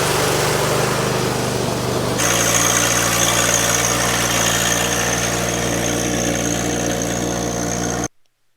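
A heavy tractor engine idles steadily and loudly nearby on a farm with a constant low rumble, shifting slightly in tone partway through before cutting off abruptly.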